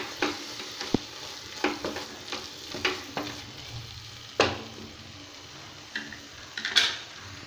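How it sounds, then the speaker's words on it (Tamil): Turmeric and garam masala powder are stirred into mushrooms frying for biryani in a pan. A spoon scrapes and knocks against the pan in repeated, uneven strokes over a steady soft sizzle. "அடுத்து மஞ்சள் தூள், கரம் மசாலா தூள். நல்லா மிக்ஸ் பண்ணிக்கலாம்."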